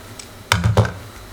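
Two quick keystrokes on a computer keyboard while entering a spreadsheet formula, close and crisp, with quiet room tone before and after.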